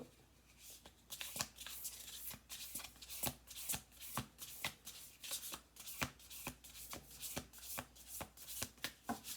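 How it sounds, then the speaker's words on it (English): Tarot cards are riffled and bridged repeatedly in quick crisp bursts, close and clear, with soft handling noises between shuffles. "We're going to do 2 more shuffles."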